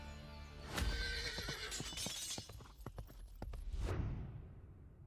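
A police horse in a video game whinnies loudly, followed by rapid clip-clopping hooves and a second neigh, with a synthetic game-like quality.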